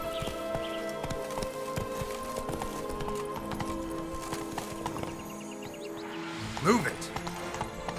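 In the game Witcher 3 Blood and Wine, the horse Roach gallops with rapid rhythmic hoofbeats under voices and music, ending in a loud whinny near the end.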